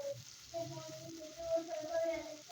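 Onions sizzle softly in a pan, cooked only until soft without browning, while a spoon stirs them now and then, for a bottle gourd chicken curry; no one speaks.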